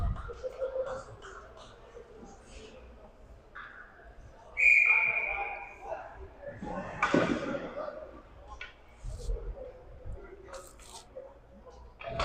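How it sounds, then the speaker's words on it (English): Referee's whistle at a 16U A youth ice hockey game: one sharp, loud blast lasting under a second, heard over arena crowd noise while a commentator talks. "Shot goes high into the netting, which will give us a whistle."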